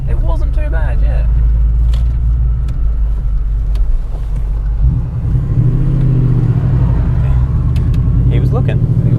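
Supercharged BMW E39 M5 with its S62 V8 pulls hard under load, a steady loud engine drone that deepens and swells midway as it accelerates, with people talking inside the car over it.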